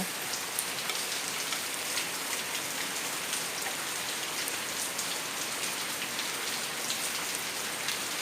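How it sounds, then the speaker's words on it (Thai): Steady rain falls on surfaces nearby at a garden home in Sattahip, Thailand, a continuous hiss sprinkled with distinct drips and patters. "เช้าเช้ากับบรรยากาศฝนตกนะคะวันนี้ ที่สัตหีบเราฝนตกด้วยค่ะวันนี้"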